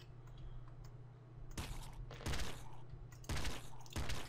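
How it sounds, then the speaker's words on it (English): Machine gun fire in the Nuclear Throne video game: a few short broadband bursts of rapid shots, loud and close, separated by quieter stretches over a steady low background hum. "We might replace our handgun with the machine gun."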